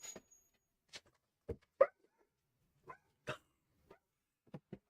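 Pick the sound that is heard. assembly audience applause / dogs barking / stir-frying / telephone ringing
dogs barking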